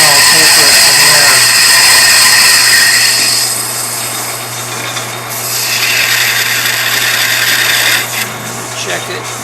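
A small metal part for an engine greaser being cut down on a lathe, giving a loud, continuous cutting and whirring noise with a steady hum underneath and some speech mixed in.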